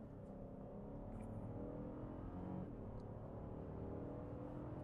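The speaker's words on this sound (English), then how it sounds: "We're going to rev it up," A 2025 Lexus LX Hybrid accelerates hard from a standstill toward 60 mph, a steady low engine drone and road rumble heard from inside the cabin, rising slightly in pitch without a break.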